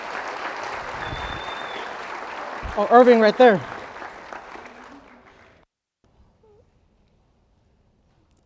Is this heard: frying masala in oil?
no